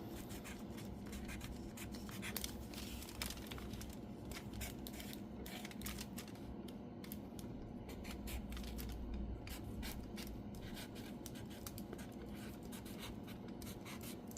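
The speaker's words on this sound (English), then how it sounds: "I'm going to write down thank you" Pen writing on paper: a steady, continuous scratching at close range, faint and unbroken throughout with no talk over it.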